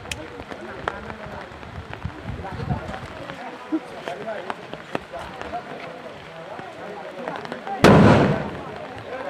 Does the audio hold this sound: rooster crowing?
no